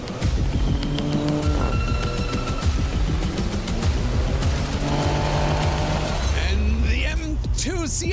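A Dodge Challenger Daytona and a BMW M2 CS drag race, with loud engines revving and shifting through rising and falling tones, a thick close roar that surges again near the end while a commentator talks over it.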